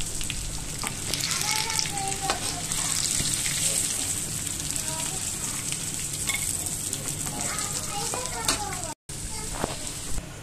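Chicken pieces frying in a pan, giving a continuous crackling sizzle with the occasional stir and scrape, fairly close, under a low background hum and briefly cut out near the end.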